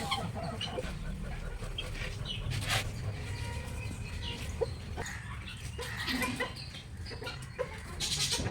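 Chickens and a rooster cluck on a farm, giving scattered short calls at mid distance over a low, steady background of rural ambience.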